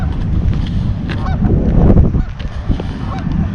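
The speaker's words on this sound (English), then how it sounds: "There's some geese too." A flock of geese by a river honks loudly and repeatedly, overlapping calls close by, with wind buffeting the microphone and a low rumble beneath.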